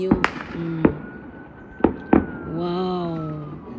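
Fourth of July fireworks pop and bang in a few sharp, separate reports at moderate distance, followed by a rising whistling tone near the end.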